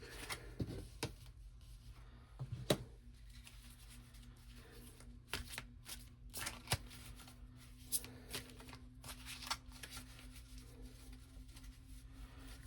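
Playing cards shuffled and dealt at a table during a card game, a run of soft riffling and crisp slaps in short bursts, close and quiet over a low steady hum.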